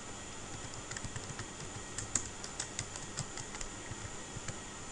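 Quiet, uneven clicks of a computer keyboard as a title is typed into a Word document, irregular keystrokes with small pauses, faint and close against a low background hiss.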